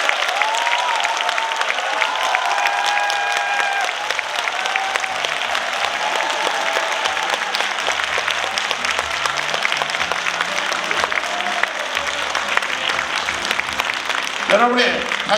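A lecture audience at an academy talk applauds to welcome the author Yoo Si-min, producing dense, continuous clapping that holds steady and loud throughout, with faint tonal sounds running beneath.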